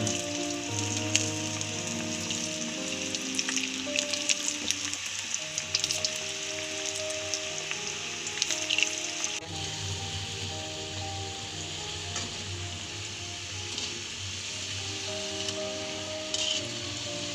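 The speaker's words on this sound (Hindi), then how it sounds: "सारे समोसे एक एक करके ऐसे डाल दें कढ़ाई में।" Samosas deep-fry in medium-hot oil in a kadhai, giving a continuous soft, rain-like bubbling sizzle that holds steady throughout, with an occasional faint clink.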